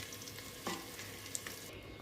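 Fish frying in a pan gives a faint, steady sizzle with a few soft crackles and one brief stir, all low and close with no voices.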